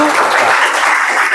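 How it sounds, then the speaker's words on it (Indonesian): Secondary school students in a geography class clap together in a short, dense burst of applause that fills the room. "Baik, tepuk tangan dulu."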